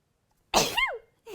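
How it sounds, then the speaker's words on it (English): A single sharp, loud sneeze bursts out after a moment of silence, with a rising then falling nasal cry, followed by the start of another vocal sound. "Sorry, I'm about to sneeze."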